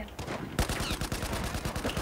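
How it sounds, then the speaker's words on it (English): Rapid bursts of gunfire in the video game Battlefield 4 crackle in a dense, continuous volley, with faint voices underneath. "I hear gunfire!"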